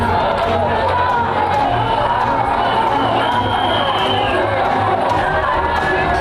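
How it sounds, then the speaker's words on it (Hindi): A large crowd of Donald Trump supporters at a rally in Washington DC makes a dense, continuous roar of chatter, shouts and cheers, loud and close throughout. "यह अमेरिका की राजधानी वॉशिंगटन डीसी में डोनाल्ड ट्रंप के समर्थकों की रैली है।"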